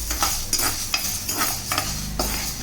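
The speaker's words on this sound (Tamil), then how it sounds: "இதில் இந்த உளுந்து நல்லா ப்ரௌன் கலராக வர்ற அளவுக்கு நல்லா வறுத்து வச்சு எடுத்துக்கிடுவோம்" Black urad dal dry-roasting on low flame in a pan, stirred with a spatula in a regular rhythm of scrapes and light metal clinks over a faint sizzle, close by and without speech.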